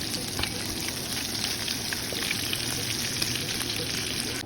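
Onion sizzles and crackles steadily in a hot pan while gravy is made, a dense, continuous frying hiss with scattered pops, close and even throughout.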